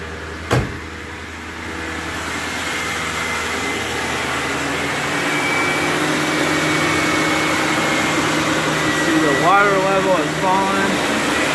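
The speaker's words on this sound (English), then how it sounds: "That squeaking is because the belt got wet." A 2002 Mercury Grand Marquis engine idles steadily with a constant mechanical hum, and near the end a wet drive belt gives a few quick, high chirping squeaks over the running motor.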